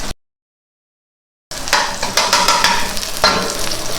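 Onion, garlic and tomato sauté in a hot pan with a steady sizzle, broken by the scrape and clink of stirring, after a short silent gap at the start.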